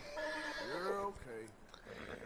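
Horse in the video game Red Dead Redemption 2 letting out a brief, wavering whinny close by, fairly soft, with a short snort or breath afterward and quiet game ambience.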